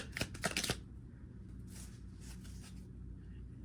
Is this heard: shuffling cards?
yes